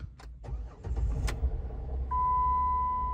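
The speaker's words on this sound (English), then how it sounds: "let's go ahead and see if we can start this thing up" Jeep Wrangler engine starting at close range: a few quick cranking bursts catch and settle into a steady idle, with a thin electronic tone joining partway through.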